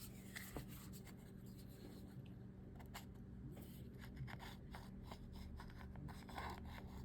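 A gritty Penn Fierce IV 8000LL spinning reel turned by hand gives a faint, continuous rough grinding and rasping, with a few sharper clicks, heard alone and close.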